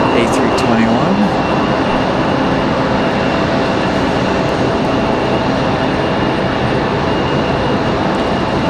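An American Airlines Airbus A321 jet bound for Charlotte roars steadily at Raleigh Durham airport, a loud, continuous broadband engine rush that holds for several seconds while a voice talks over it.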